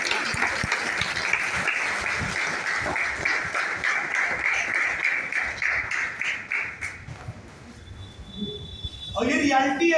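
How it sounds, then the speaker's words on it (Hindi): An audience at a business meeting applauds: a crowd claps loudly and steadily for several seconds, the sound thins out, and then a voice starts speaking. "तो इनके लिए जोरदार तालियां।"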